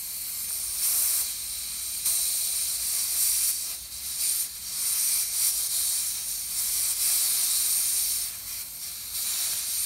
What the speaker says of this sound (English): you'll get an escape of air in a minute